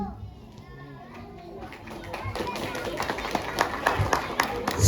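Applause at a school graduation ceremony at Labschool Mentari Indonesia starts after children's chatter and voices, then swells into steady, dense clapping from a large crowd in a hall.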